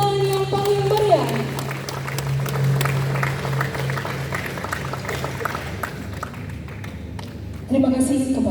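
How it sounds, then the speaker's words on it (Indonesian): Crowd applause at the opening ceremony of a mixed-team table tennis tournament, right after a gong strike, sustained clapping mixed with background talk and a lingering tonal ring. "Kita berikan tepuk tangan yang paling meriah."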